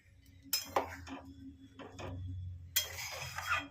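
A spoon stirs sugar into basanti pulao in a pot, producing a few distinct bursts of metallic scraping and clinking with quiet pauses between them.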